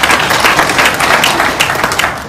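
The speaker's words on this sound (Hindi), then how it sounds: "तालियां बजाने का जरूरत नहीं है" A large audience at a business speech in a hall breaks into loud, dense applause, with sustained clapping filling the entire stretch at close range.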